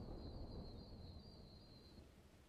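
A thunderstorm approaching in a video game, heard as a steady low rumble with rain-like hiss and a thin sustained tone over it, faint and continuous.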